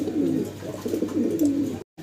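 Desi Bombay pigeons coo close by in a loud, low, rolling series of calls that runs almost continuously, then stops briefly at the end.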